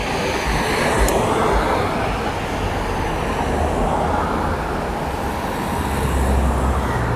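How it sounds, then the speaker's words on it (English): Steady road noise on a street near South Willard Street, a continuous loud rumble and hiss of passing traffic with a low engine drone and no pauses. "So I do apologize for any road noise you will hear."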